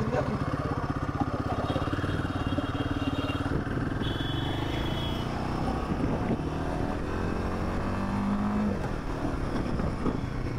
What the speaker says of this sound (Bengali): বাস ফার্স্ট টাইম চালাচ্ছি আমি এই বাইকটা এখন।